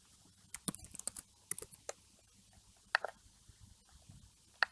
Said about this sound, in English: I type Trevor.